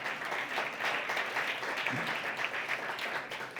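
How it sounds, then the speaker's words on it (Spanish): An audience at a social media community forum gives a panel a round of applause. The clapping is steady and moderately loud, dense and continuous, with no speech over it. "Aplaudimos al panel con un aplauso."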